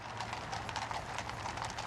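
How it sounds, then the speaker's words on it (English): Horses' hooves clip-clop on pavement in a British royal procession, with mounted riders moving together, a brisk, continuous patter of overlapping hoofbeats at moderate distance under a general outdoor wash. "Also riding on horseback behind Charles were Prince William, the Duke of Cambridge, and Princess Anne, the Princess Royal."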